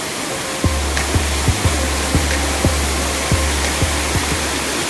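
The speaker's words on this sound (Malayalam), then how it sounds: "ഇപ്പോൾ ചെറിയൊരു വെള്ളച്ചാട്ടമായിട്ടേ കാണാൻ സാധിക്കുന്നുള്ളൂ" A small Madasheri waterfall near Thiruvananthapuram gives a steady, close, broadband rush of falling water, broken by a series of soft, regularly spaced low thumps.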